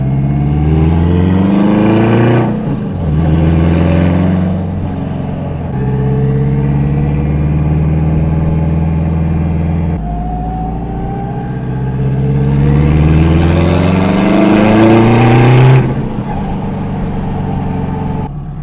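A Honda Civic Type R engine runs close by, a smooth steady hum that climbs in pitch under light revs, settles, then climbs again in a longer rising sweep before dropping back.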